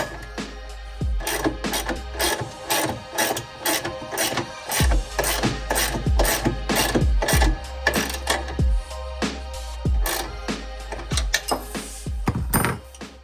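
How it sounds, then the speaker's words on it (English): A 3/4 inch ratcheting wrench clicks in repeated quick bursts while tightening a differential brace bolt, loud and close, with short pauses between strokes. "take this 3/4 inch ratcheting wrench and tighten it down"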